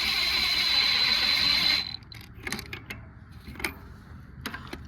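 Bolts on a small 5x8 utility trailer are tightened, starting with a steady whirring power-tool run, then a series of irregular metallic clicks and clanks up close.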